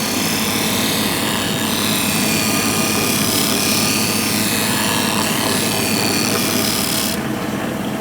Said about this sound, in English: I'm going to sand this profile down, once again working from center to left.